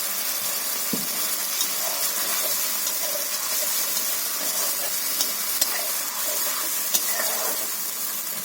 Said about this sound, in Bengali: আমি হলুদ গুঁড়ো দিয়ে দিচ্ছি, একটু করে জল দিয়ে দিচ্ছি।